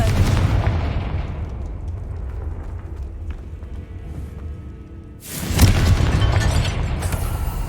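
Confringo spell explosion in Hogwarts Legacy, a loud fiery blast bursting in after a rumbling lull, with crackling debris trailing off.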